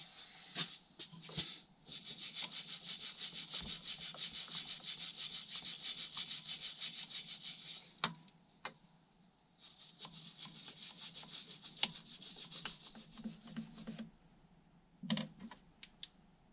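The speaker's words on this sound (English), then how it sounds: "Now I got a brass brush over here. Let's try this." A brass brush scrubs carbon deposits off a KD175 motorcycle engine part in quick back-and-forth strokes, a close, raspy rhythmic scratching in two long bursts separated by pauses, with scattered taps.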